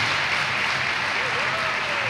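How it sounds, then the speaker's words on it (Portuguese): Steady applause from a crowd at a 2016 retreat in Lamego, a dense wash of clapping that holds evenly throughout without pause. "então agradeço em primeiro lugar a Ané, uma salva de palmas novamente para ela."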